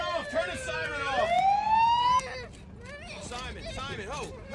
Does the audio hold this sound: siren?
yes